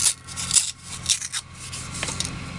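Scissors cut a tree shape out of paper for a handmade craft tag, giving soft snipping and rubbing sounds in a few short bursts close by, with no talking.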